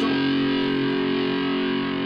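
Electric guitar, a Gould Klytuscaster, driven through a distortion pedal on a guitar amp, holding a thick, sustained saturated chord that rings steadily and fairly loud for about two seconds with no talking.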